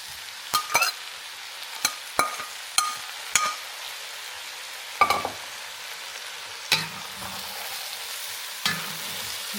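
Mushrooms and carrots being stirred in a pot for a creamy potato, mushroom and chicken dish, with a spoon scraping and knocking in sparse, irregular strokes over a soft background.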